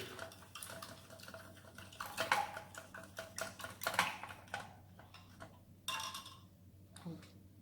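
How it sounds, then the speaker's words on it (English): A spoon clinks and scrapes against a cup or container while iced tea from a Russian prison guard ration pack is stirred, a quick run of close metallic taps and rattles that fade into quieter handling. "Let me stir that up and see if we need to add the sugar."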